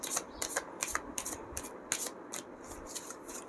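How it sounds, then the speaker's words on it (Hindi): Tarot cards being shuffled by hand, a steady run of quick riffling flicks and soft slaps, close and moderately loud with no talking. "कार्ड्स को अच्छे से शफल कर लेते हैं"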